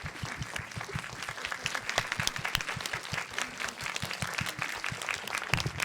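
A theatre audience at a film screening Q&A breaks into sustained applause for the director, dense and even clapping from many hands throughout, moderately distant, with no speech.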